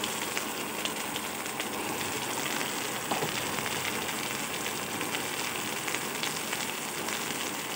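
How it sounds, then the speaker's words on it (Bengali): Chopped tomato with a little salt being stirred and fried in a pan for a fish and five-vegetable curry, a steady dense sizzle with faint scraping from stirring throughout. "আর দিয়ে দিচ্ছি টমেটো কুচি, দিয়ে আরও কিছু সময় নাড়াচাড়া করবো"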